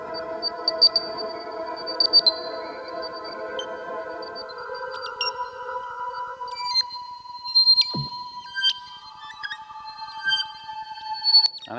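Sustained electronic tones from an early-1980s MIDI synthesizer ring out alone, layered held notes with sharp pinging blips and shifting pitches, fairly loud and clear throughout.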